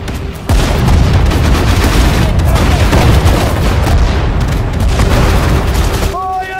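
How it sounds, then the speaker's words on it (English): Gunfire and explosions from battle in the video game Sudden Strike, a loud, dense and continuous roar of shots and booms that drops away abruptly near the end, where a brief voice-like tone appears. "Fire at the target. Shoot them."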